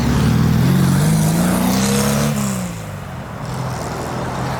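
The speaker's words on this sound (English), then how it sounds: "I never seen that man give it that much gasoline in a show." A modified muscle car roars nearby, its engine revving hard with a strong low rumble as it power slides out of a car meet, then the roar eases off and fades slightly toward the end.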